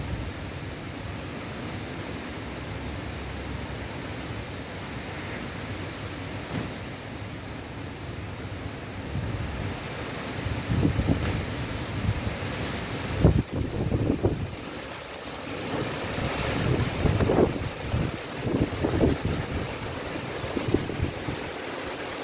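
Rain and gusting wind during a storm in Torreón, Coahuila, a steady broadband rush with stronger bursts and scattered knocks in the second half, no talk.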